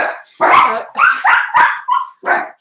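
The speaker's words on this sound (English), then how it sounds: "The neighbor's dog barked." A neighbor's dog barking in a kitchen, a quick run of five or six sharp, loud barks with short gaps between them.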